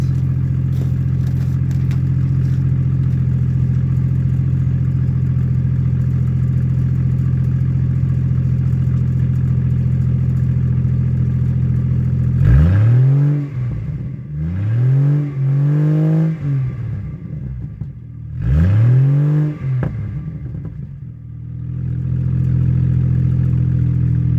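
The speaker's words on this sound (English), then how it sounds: "I guess I could do a couple revs" 2004 GMC Envoy engine idling close by with a steady low hum, then three sharp revs that rise and fall back to idle, each followed by a brief pause, no talking.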